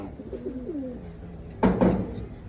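Gangchil breed pigeons cooing softly nearby, a few low rolling coos followed by a louder bump or rustle near the end.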